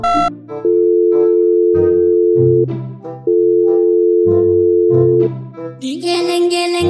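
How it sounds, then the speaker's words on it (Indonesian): A phone ringback tone sounds in long steady beeps with short pauses, over a busy musical background, loud and close. "Aku telepon dia ah."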